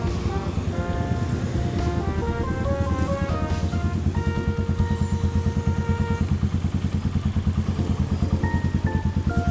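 Close by, a 2018 GPX Legend 150 motorcycle idles with a steady, low, deep exhaust throb that is fairly quiet and continuous, heard alone without talk.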